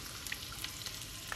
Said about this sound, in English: I'm just going to let that sizzle